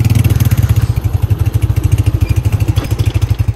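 A motorcycle engine runs outdoors on a cold morning, chugging loud and close in a fast, steady idle rhythm that continues throughout with no pauses.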